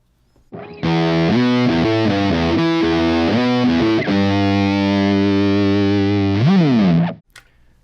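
Gluttonous Maximus fuzz pedal by Poison Noises on electric guitar with its clipping knob turned fully right, giving a loud, thick distorted tone as a riff of short notes gives way to sustained chords and a final bend before stopping abruptly.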